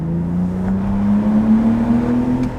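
A BMW E46 330i Touring fitted with a Scorpion exhaust revs up close and loud, its steady drone climbing smoothly in pitch over a few seconds before easing slightly at the end.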